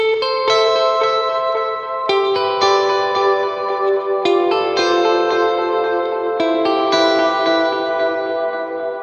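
Clean electric guitar chords ring out through a Sonicake Wave Crush bitcrusher pedal, each strum trailing into shimmering echo and chorus-like repeats.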